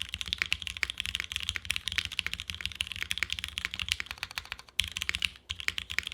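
Typing on a Mode SixtyFive mechanical keyboard with a brass bottom, a rapid stream of crisp, close keystroke clacks with slightly ringing reflections and a couple of short pauses.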